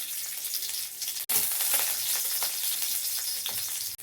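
Garlic and green chilies frying in mustard oil in a wok, a steady bright sizzle that jumps louder partway through as ingredients hit the hot oil.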